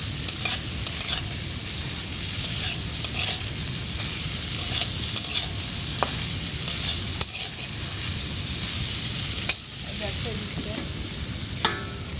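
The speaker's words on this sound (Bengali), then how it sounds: "দেখো চিংড়ি মাছগুলো এখন ভেজে নিচ্ছি লবণ আর হলুদ দিয়ে অল্প একটু দিলাম" Prawns fry with salt and turmeric in a pan, giving a steady close sizzle with occasional sharp clinks and scrapes of stirring throughout.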